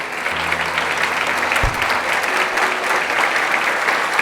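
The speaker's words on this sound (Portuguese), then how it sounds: "dê uma forte salva de palmas ao Senhor Jesus" A church congregation applauding for Jesus, dense, continuous clapping from a large crowd that fills the space, steady and loud throughout with a short low thump partway in.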